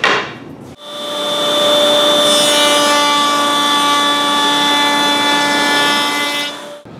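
A power router cuts a sliding dovetail in wood, a loud close whine with strong steady harmonics that starts abruptly after a brief handling noise and runs for about six seconds before stopping.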